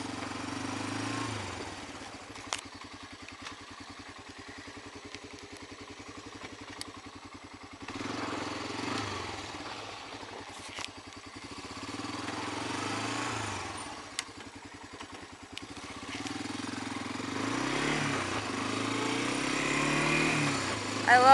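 A 1985 Honda FourTrax 250 ATV engine runs steadily throughout, with a low, even rumble and a clattery mechanical edge that swells slightly near the end; no one talks.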